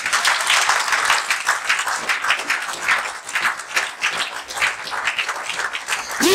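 A church congregation applauds for the Lord at a prayer service: dense, sustained clapping from many hands fills the room throughout, steady and fairly loud with small swells.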